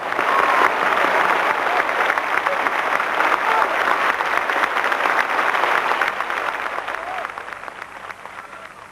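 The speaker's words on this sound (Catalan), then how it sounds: "que despedim en un fortíssim aplaudiment" A concert audience gives a conductor a loud, sustained ovation of dense applause that holds steady, then slowly tapers off toward the end.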